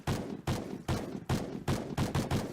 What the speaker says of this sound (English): And a few extra shots from Shocked as well